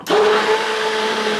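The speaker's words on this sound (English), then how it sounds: "And I'll blend away once again." Blender whirring steadily as it purées tomatoes with a level teaspoon of sugar for pasta sauce, a loud continuous motor drone with a steady tone running throughout.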